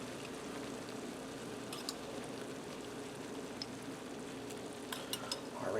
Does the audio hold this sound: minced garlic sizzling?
yes